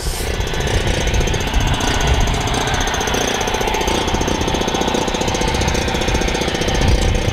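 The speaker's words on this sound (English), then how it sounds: "We're gonna need the compressor on too." Air compressor running aboard a trawler, a loud, steady rapid chugging and rattling that continues without a break, close and filling the space with mechanical knocking.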